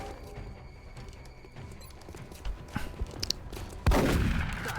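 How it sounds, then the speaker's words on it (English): Shotgun blasts in the video game XCOM Long War, a few scattered sharp reports building to one loud close blast with a ringing tail, over a low game backdrop. "I just run at them and shoot them with shotguns"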